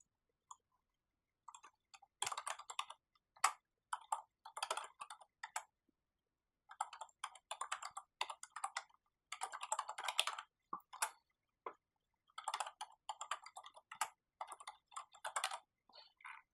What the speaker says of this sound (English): Let me type in a name for you.